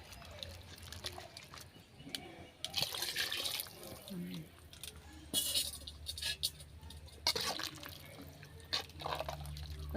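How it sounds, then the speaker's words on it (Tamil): Water is poured into a pot of home-cooked mutton curry in a kitchen, giving splashy, dripping bursts and occasional clinks of utensils against a low background hum. "மட்டன் குழம்புக்கு தேவையான அளவு தண்ணி எல்லாமே வந்து சேர்த்துட்டாங்க"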